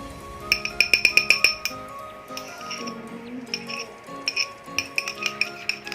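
Utensil clinks rhythmically against a glass container while conditioner and vinegar are stirred for a hair treatment, with bursts of quick bright taps and pauses between them.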